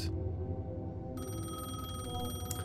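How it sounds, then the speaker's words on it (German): An electronic telephone ring sounds in the video game Alan Wake II, a steady trilling tone that starts partway through over a low ambient hum, with no voices. "Ich muss mal kurz ans Telefon hier."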